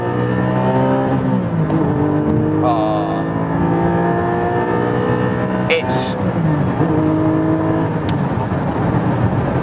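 A Porsche 911 992-generation road-going race car engine revs up through rising and falling harmonics at close range, loud and sustained, with brief talk from occupants over it.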